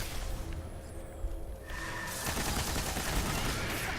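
Heavy weapon fire in the shooter Destiny, starting as a sudden rapid barrage of loud, dense shots after a quieter lead-in, then sustained crackling bursts through to the end.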